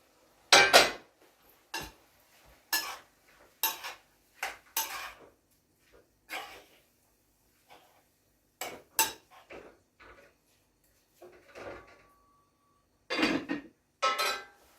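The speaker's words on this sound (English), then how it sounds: "let's just go ahead and stir this." A spoon clinks and scrapes against a cooking pot while food is stirred for dinner, giving a string of sharp, close metallic knocks at irregular intervals with brief quiet gaps between them.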